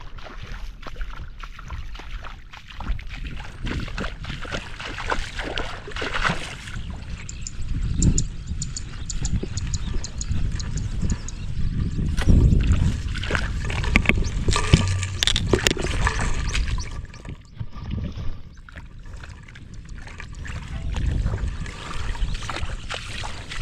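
Water rushes and splashes steadily into a rice paddy, a loud continuous gurgling flow with shifting surges, close by and unbroken for the whole stretch.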